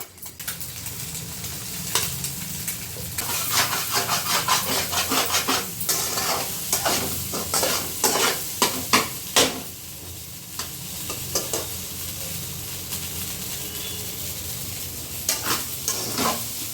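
Food stirred and scraped in a pan on a home stove, with faint sizzling and repeated scraping strokes of a utensil against the pan, close and without talk.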